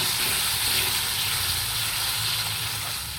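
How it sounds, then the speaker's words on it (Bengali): Chopped tomato fries with spices in a pan for a small-fish chorchori, giving a steady, close hissing sizzle that holds for a few seconds and fades slightly at the end. "টমেটো কুচানো দিয়ে দেবো টমেটো দিয়ে ভালোভাবে কষিয়ে নেব"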